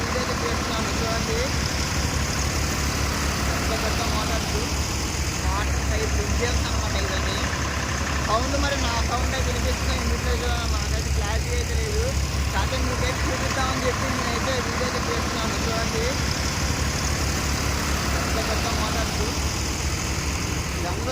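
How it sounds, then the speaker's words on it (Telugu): Large water pipe pump engines run without pause at a construction site for Amaravati's iconic towers at night, giving a loud, steady mechanical drone with a low hum and rattling texture that lasts throughout. "పెద్ద పెద్ద వాటర్ పైప్ ఇంజన్స్ అనమాట ఇవన్నీ సౌండ్"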